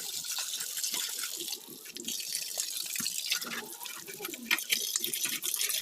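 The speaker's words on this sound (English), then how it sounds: "So I'm just going to wash it clean with some fresh clean water and sponge." Fresh water splashes and drips as a sponge scrubs a dusty PVC pipe clean, a busy close wet sloshing with small trickles and taps.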